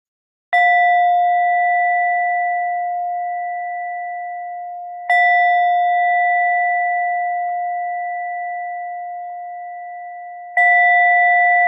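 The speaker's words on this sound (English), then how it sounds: "continuing to practice through the sound of the bell until you don't hear it anymore" A meditation bell struck three times at steady intervals during a meditation session, each clear ringing tone sustaining and slowly fading before the next strike, alone in silence.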